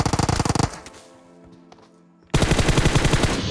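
Rapid automatic gunfire in the Free Fire mobile battle game, a loud burst of fast shots, a short gap with scattered clicks and game sounds, then another sustained burst, close and dominant with no talk.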